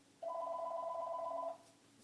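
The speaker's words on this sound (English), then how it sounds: "My phone's ringing." A single telephone ring sounds close and clear as one sustained electronic tone of about one and a quarter seconds, then stops, leaving quiet room tone.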